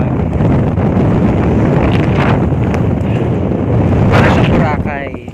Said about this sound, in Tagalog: Sobrang hangin dito, grabe.